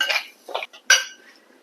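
Roasted lentils for Onam parippu payasam being tipped from a pan into a vessel, a few short metallic scrapes and clinks of pan and spoon, close and fairly quiet, with no talk.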